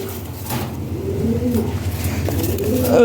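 European Lahori pigeons cooing in a loft, soft low repeated coos close by over a steady background hum, with a little faint noise and no talk.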